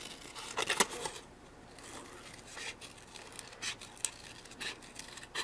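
Scissors snip through stiff brown craft cardstock in a series of quick, close cuts, with light rustling between the snips.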